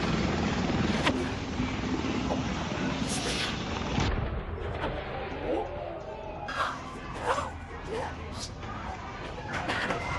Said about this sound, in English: A helicopter malfunctions and crashes during landing near a riverside restaurant